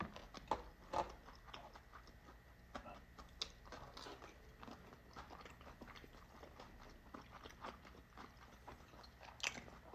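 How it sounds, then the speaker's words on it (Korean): Someone bites into chapssal sundae, a Korean blood sausage made with sticky rice, eaten with hot gukbap. Soft close chewing and a few sharper bites come through quietly over a low room hum, with no talking. "찹쌀 순대 한번 먹어볼게요"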